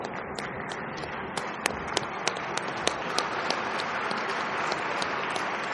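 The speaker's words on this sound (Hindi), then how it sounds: "आप तालियां बजाते रहें" An audience applauds at a felicitation ceremony with a steady wash of scattered clapping, a few sharper individual claps standing out, moderately distant and sustained.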